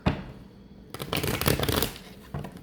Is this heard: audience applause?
no